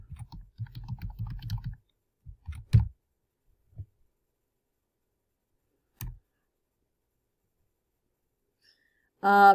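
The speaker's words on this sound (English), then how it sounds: "So that's what I'll type." A computer keyboard gives a short run of quick keystrokes, then a few isolated clicks separated by silence, in a quiet room.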